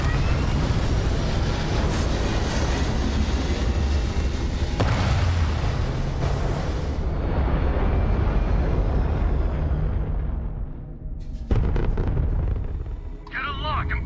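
Spaceship in Starfield lifting off and flying, a loud steady engine roar and rumble that thins out partway through, then a sudden burst and louder roar near the end.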